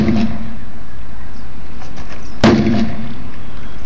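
A hammer strikes a laminated security window once, a single sharp, loud bang about midway, heard over a constant low background rumble.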